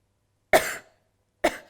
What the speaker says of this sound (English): That beginning feeling of coughing